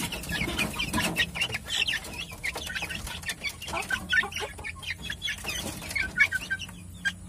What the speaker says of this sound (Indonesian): semua anakan ayam pada makan ya